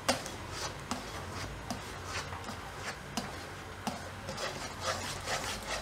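A spoon scrapes steadily through gulab jamun mixture in a pan over a low gas flame, making soft, rhythmic rubbing strokes with faint clicks, quiet and close with no talking.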